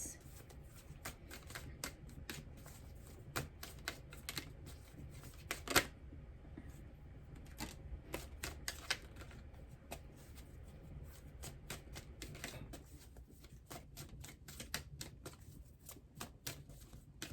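Tarot cards shuffled by hand for a Pisces reading, a steady run of crisp riffling slaps and soft flutters, close and fairly quiet throughout with no talking.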